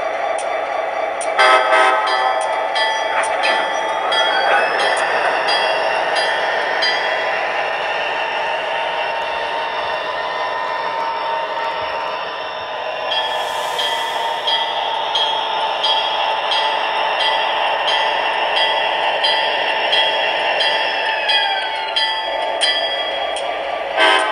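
An MTH Amtrak F40PH model train locomotive runs steadily with a continuous rumble and sustained horn tones throughout, loud and close, with no talking.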